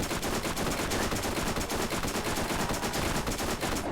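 Rapid, continuous SMG fire in Borderlands, a dense loud stream of shots with no pauses and no voices.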